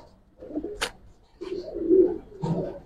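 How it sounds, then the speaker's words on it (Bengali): A female pigeon coos in soft, low, throaty bursts, three or four short phrases close by, with a brief sharper noise in between. "এটা একটা মাদি কবুতর"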